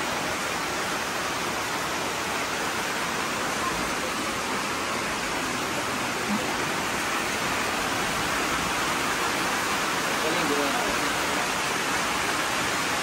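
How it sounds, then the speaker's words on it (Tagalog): Heavy rain pouring at night on a mountainside, a dense, constant roar of falling water that holds steady throughout without a break. "Lakas ng ulan."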